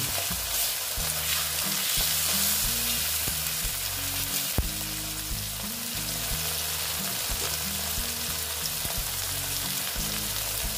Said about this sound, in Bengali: তারপর দিচ্ছি দেখো টমেটো। দিয়ে একটু ভেজে নিচ্ছি।